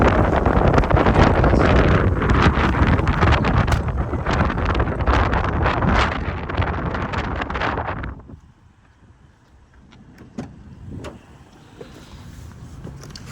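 Loud, steady wind buffeting a microphone beside a 2016 Lexus NX 200t, roaring for about eight seconds and then suddenly dropping away to faint background with a few scattered knocks.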